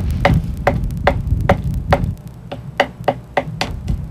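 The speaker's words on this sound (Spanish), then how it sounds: "El picoteo del pájaro carpintero mayor suena diferente en el bosque." Sharp, regular knocks repeat about twice per second, like a woodpecker hammering on a trunk, clear and fairly close against low background rumble.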